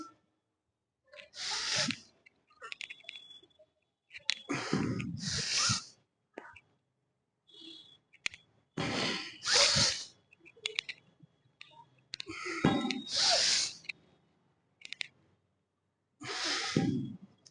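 Heavy, forceful breaths during clean and press reps come in a repeated pattern, each sharp exhale followed by a pause, close and audible between strained efforts.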